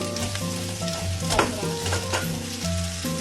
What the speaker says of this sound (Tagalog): So, pwede na natin ilagay yung tomato. Para maluto rin siya.